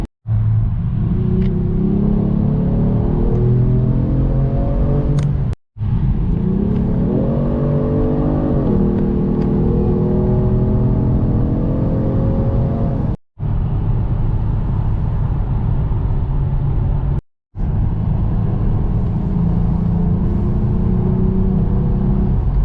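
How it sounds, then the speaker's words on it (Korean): A Genesis G70 3.3 turbo plays its synthetic exhaust sound, a loud, continuous engine drone whose pitch climbs and settles repeatedly as the car accelerates, broken by a few short gaps. "들을수록 질리는 그런 배기음이 이 제네시스 G70의 그런 사운드 배기음이다"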